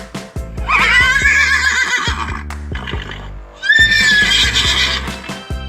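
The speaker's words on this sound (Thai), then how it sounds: "เป็นเสียงของม้า" A horse neighs twice, loud shrill whinnies each lasting over a second, with faint clopping and background noise between them.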